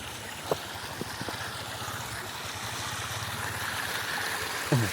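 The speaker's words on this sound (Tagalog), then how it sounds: "Nag-aagas na po do, tubig." Water flowing steadily outdoors at a bathing spot, a continuous rushing wash with a low rumble throughout and a few brief knocks and splashes.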